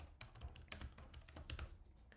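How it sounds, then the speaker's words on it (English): Keys clack in quick, uneven bursts as someone types on a computer keyboard while entering details into the Victron VRM app, close and clear with no talking. "Let's go type it in like this."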